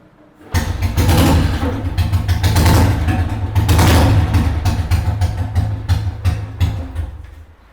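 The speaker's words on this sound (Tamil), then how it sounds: "வெஹிக்கிள் ஸ்டார்ட் பண்ணி காமிக்கிறேன்." A fully restored Royal Enfield G2 motorcycle starts up after a brief silence, catching with a loud burst and settling into a strong, steady running sound.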